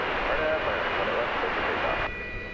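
An American Airlines jet arriving at DFW Airport on its flight in from Louisville makes a steady, broad roar that holds level, then drops off slightly near the end.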